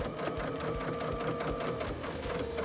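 Sewing machine stitching around a quilt square in quilt-as-you-go patchwork, a close, loud, continuous rapid needle chatter with a steady mechanical hum throughout.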